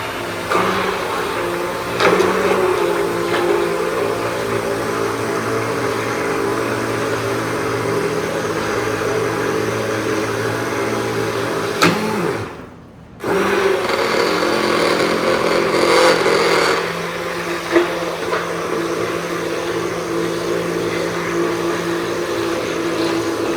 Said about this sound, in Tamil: நல்லா பிளண்டர் போட்டு இந்த பவுடரு, சால்ட் வாட்டர் அது எல்லாத்தையுமே நல்லா மர்ஜ் பண்ணிட்டேன்